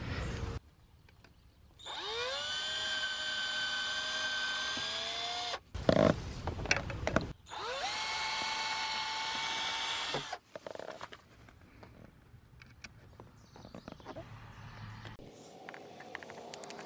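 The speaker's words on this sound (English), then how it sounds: "we're just going to drill a couple holes, put 2 wood screws in here and here." A power drill bores holes in wood for a window well cover, running in two loud sustained bursts with rising pitch as it spins up, separated by a clunk, followed by quieter handling noises nearby.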